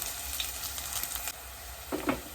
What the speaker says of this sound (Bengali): পেঁয়াজটাকে একটু ব্রাউন করে ভেজে নেব।